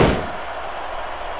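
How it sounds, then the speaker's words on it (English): A ladder slams into a wrestler at a wrestling event, one loud sharp impact followed by a decaying crowd and arena ambience. "What a shot with that ladder"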